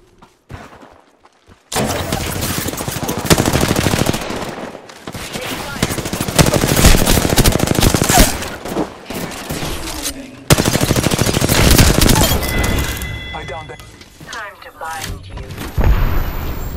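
Loud, sustained automatic gunfire from an Apex Legends ranked arena match, near and dense with bursts and booms, breaking off briefly before resuming, with in-game voice callouts mixed over it.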